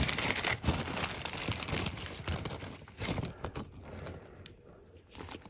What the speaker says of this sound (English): A bag of figurines.